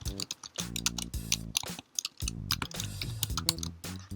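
Quick, crisp keystrokes on a computer keyboard as an email address is typed, a close run of irregular clicks with brief pauses between bursts.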